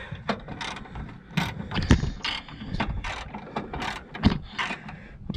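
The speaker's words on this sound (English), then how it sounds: "I'm using extendable ratchets to make it easier to" An extendable ratchet turning bolts on a Volvo M56 manual gearbox from a 2.4 non-turbo V70/S60/S80. Repeated bursts of close mechanical clicking and ratcheting come in uneven rhythm, with occasional metallic knocks.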